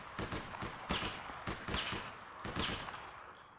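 Gunfire in the online game APB, with clear, sharp single shots from a DMR rifle spaced roughly half a second to a second apart, fairly quiet and free of talk.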